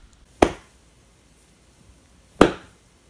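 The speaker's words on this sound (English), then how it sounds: "slap my thigh for a nice impact" Two sharp, close hand slaps on a thigh, about two seconds apart, each a quick smack that fades fast, recorded as raw material for a healing-ability game sound effect, with near silence between them.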